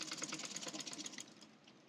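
A sewing machine stitches the side seam of a kameez in a quiet, rapid, pulsing run that fades away over the last moments.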